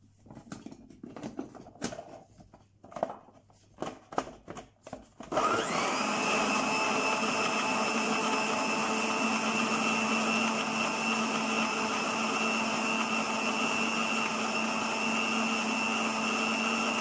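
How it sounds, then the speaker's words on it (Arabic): A few dull taps and clunks come first, then a kitchen blender switches on with a loud steady whir that grinds dried apricot, strawberry, honey and water for the rest of the clip. "ضربناه في الخلاط"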